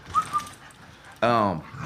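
A playful female hunting dog whimpers indoors with short, high whines early on, then a louder vocal outburst follows, close to the microphone in a quiet room.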